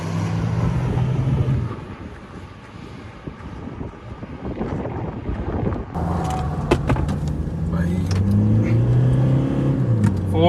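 A Tata Safari and a Toyota Fortuner rev hard in a drag race. Engines drone under heavy wind buffeting, then climb in rising, sweeping pitch as one accelerates flat out, loud and close.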